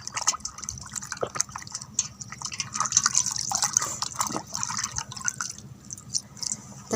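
Fish being washed by hand in water for a home-cooked fish curry: steady close splashing and dripping with small irregular sloshes, continuing for several seconds.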